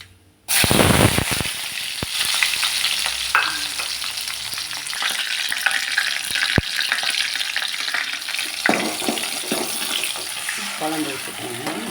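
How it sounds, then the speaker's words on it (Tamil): Onions, shallots, green chilies and curry leaves sizzle steadily in hot oil after mustard seeds, with occasional stirring clatter and a brief louder burst near the start, continuous and close throughout. "வெங்காயம், பச்சை மிளகாய், வெங்காயம், சின்ன வெங்காயம்,"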